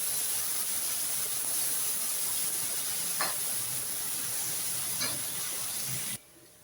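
Two finely chopped onions sautéing in a pan for green chicken gravy, a soft steady hiss of frying with a couple of faint scrapes from stirring, stopping suddenly at the close.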